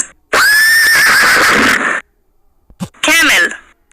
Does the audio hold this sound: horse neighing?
yes